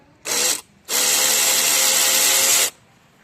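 INGCO 500Nm cordless impact wrench on a 4 amp battery, revved in a short burst then a longer run of about two seconds, loud and close with a harsh, buzzing whir, heard alone with no speech.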